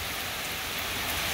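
Steady rain falling on surfaces outdoors, a dense continuous hiss that stays loud and unbroken with no voices.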